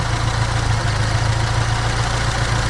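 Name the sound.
car engine idling steadily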